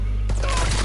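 Gunfire in a WWII video game: a sudden burst of rapid shots that starts partway through a short moment over a steady low drone, loud and close.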